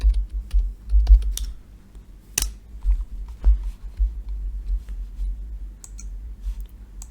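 Keys clack on a computer keyboard in irregular bursts with a few sharper clicks, close and clear with no talking.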